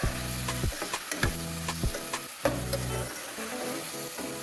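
Vegetables for spicy pasta frying in a pan while being stirred, steady sizzling crackle broken by repeated scraping stirs at an uneven rhythm, close up with no talk.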